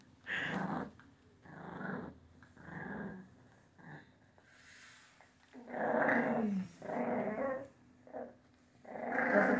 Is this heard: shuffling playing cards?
no